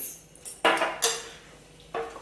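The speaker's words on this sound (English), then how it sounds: "And then we are going to mix it in with a spoon" A spoon clinking against a bowl while mixing cracked pepper into taco seasoning, a few sharp, bright metallic taps spaced irregularly, close and fairly loud.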